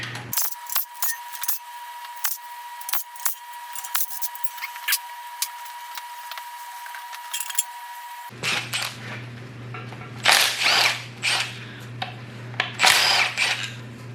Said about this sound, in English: Let's take off the windage tray.